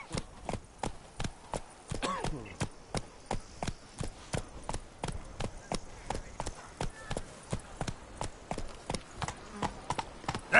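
Roach the horse's hooves clip-clop at a steady trot in Witcher 3, crisp regular beats close by, continuing throughout with a brief murmured voice partway through.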